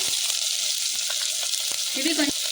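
Onions, green chilli and moringa drumstick pods fry in a pan for biryani, a close, steady sizzle with small crackles and a brief low murmur near the end.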